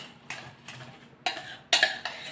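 Fermented curd being mixed into rice with a spoon in a pot, giving several distinct scraping, clinking strokes spaced at irregular intervals, fairly close and moderately loud, with no talking.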